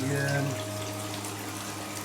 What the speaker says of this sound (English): shower running there, running the cold off from the tank in the loft